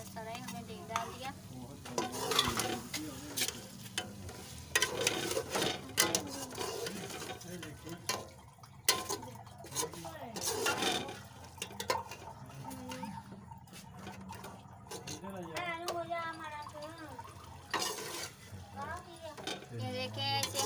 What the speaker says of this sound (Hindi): ये देखिए इसे हम 2 मिनट तक ऐसे भुनेंगे